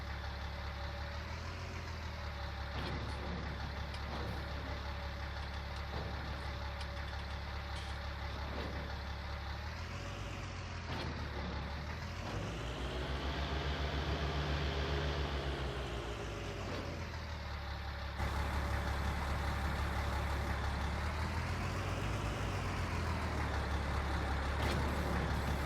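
A tractor engine idles steadily in Farming Simulator 19, a continuous low droning rumble with slight rises and falls in pitch, loud and close with no talk over it.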